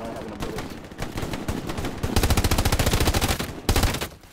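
A machine gun in the video game Hell Let Loose fires close and loud: scattered shots and clatter at first, then a long, rapid, evenly spaced burst, and one last short burst at the end.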